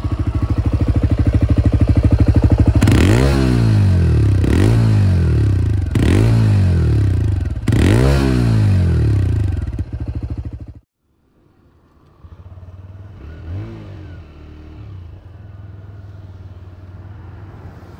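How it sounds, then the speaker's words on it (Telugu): A TVS Raider 125cc motorcycle revs its exhaust hard in four sharp, evenly spaced blips over a throbbing idle. The engine then cuts briefly to near silence and settles back into a quieter, steady idle, loud and close. "ఇప్పుడు ఈ బైక్ ఎగ్జాస్ట్ నోట్ ఒకసారి విని రైడ్ రివ్యూ స్టార్ట్ చేద్దాం"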